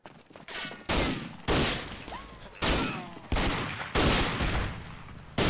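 Gunfire and grenade blasts from a first-person shooter match crackle in repeated bursts. Sharp onsets recur about every second, each trailing off into rattling fire, with no talk over them.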